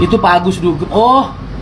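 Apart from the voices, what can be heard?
No everyday noises stand out.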